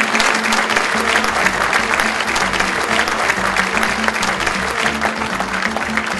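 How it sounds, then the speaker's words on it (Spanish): Sustained, loud applause from an audience at a music competition, dense clapping filling the whole stretch with crowd murmur underneath and a low steady hum behind it. "Fuertes aplausos para la Asociación"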